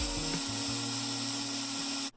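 A Dremel 4000 rotary tool runs with freshly replaced motor brushes, giving a steady high motor whine with a shifting hum, then cutting off abruptly at the end.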